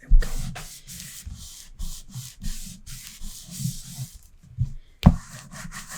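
Paper for a Stamperia Garden of Promises mini album is rubbed down with a burnishing tool in repeated short scraping strokes, close and fairly quiet, with brief pauses and a sharper tap near the end.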